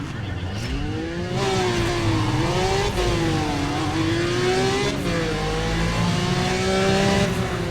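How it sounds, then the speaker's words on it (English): A sports car engine in the racing game Need for Speed ProStreet revs steadily and loudly, its pitch climbing and dipping through gear changes in a continuous drone that sounds like a Porsche. "it sounds like a Porsche"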